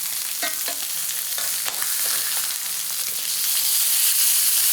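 Pork chops sear in a hot pan just after being flipped, giving a steady, loud sizzle with brief crackles and spatters near the start. The frying noise carries on alone and swells slightly toward the end.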